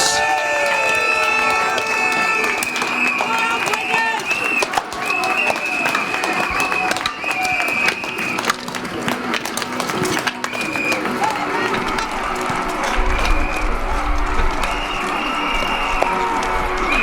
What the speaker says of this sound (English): Stamp your feet, clap your hands, blow your whistles